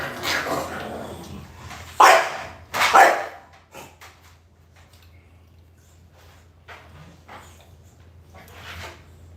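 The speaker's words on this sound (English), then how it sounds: "That's their mama barking them" An exotic bully mother dog lets out two loud, close barks early on, followed by softer yips and scattered faint dog sounds, with a steady low hum underneath.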